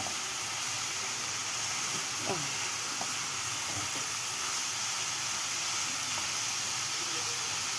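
Food fries in a pan at home with a steady soft sizzle, and a couple of stirs scrape through it in the first few seconds, fairly quiet and close.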